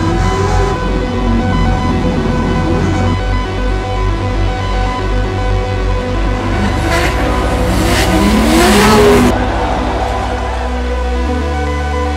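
Drift cars run nose to tail at a professional drifting event, engines revving hard and loud with rising and falling pitch, tires hissing and squealing throughout, with no talking.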